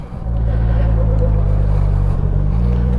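A Polaris Slingshot three-wheeler drives on winter roads, its engine a steady loud low drone with road rumble under it and no pauses.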